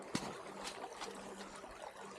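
Splashing stream water on a backpacking loop through Hetch Hetchy, close and fairly quiet, with a sharp splash near the start and steady trickling behind it.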